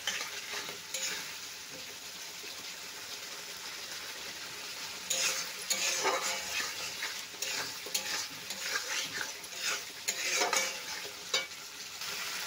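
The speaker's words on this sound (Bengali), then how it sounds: "এটাকে মশলাটাকে এবার একটু কষিয়ে নিতে হবে" Spice masala with a little water and sugar is stir-fried in a pan for a hog plum and fish curry. A steady close sizzle runs throughout, with louder bursts of spatula scraping and stirring in the second half. No one speaks.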